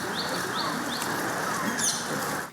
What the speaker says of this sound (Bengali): নিরিবিলি শহরে মনোযোগ দিলে শোনা যাচ্ছে পাখির কিচিরমিচির ডাক